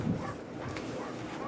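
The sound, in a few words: beagle dog barking in the background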